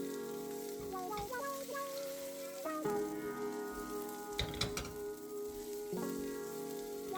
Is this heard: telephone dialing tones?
no